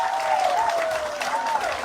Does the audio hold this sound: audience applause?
yes